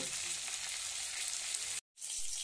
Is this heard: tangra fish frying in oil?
yes